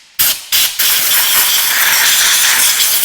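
Short bursts of compressed air blow out a gunked-up carburetor from a 1984 Briggs & Stratton lawn mower, giving two quick puffs followed by a loud, sustained hiss close by, with no voices.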